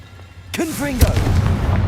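A Confringo blasting curse in Hogwarts Legacy goes off as a sharp, loud explosion with a whistling, swooping tonal trail and a booming low thud, followed by rumbling aftermath.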